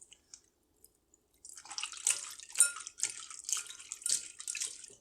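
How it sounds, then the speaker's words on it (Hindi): Tamarind pulp and seeds being washed by hand in a bowl of water, with soft splashing and sloshing that starts after a quiet moment and continues in uneven bursts. "देखें अब थोड़ा सा पानी में और डाल के इनको वॉश कर दूँ।"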